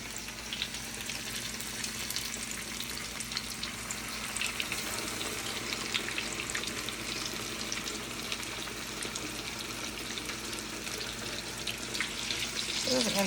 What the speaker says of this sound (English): we're putting our fish into the hot oil, getting those started frying